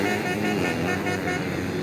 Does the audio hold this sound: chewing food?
no